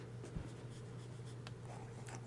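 A fountain pen with a medium steel nib scratches faintly across paper in soft, intermittent strokes over a constant low background hum.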